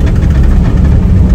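A water tanker truck's engine gives a loud, steady low rumble with constant vibration heard from close by, and no voices.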